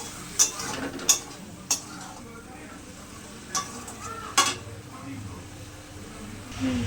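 Spices are sautéed with potato and okra in a pan for a chorchori, giving a low, steady sizzle broken by several sharp clinks and knocks of a spoon against the pan, close by.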